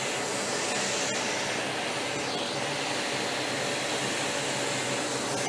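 A vacuum cleaner drones steadily throughout, a loud, constant whooshing hum with no change in pitch and no voices.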